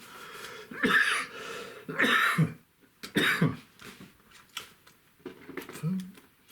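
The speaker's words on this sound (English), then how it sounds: "always coughing" Several rough coughs and throat-clearing bursts in an irregular run, fairly close and moderately loud, with quieter rustling between them.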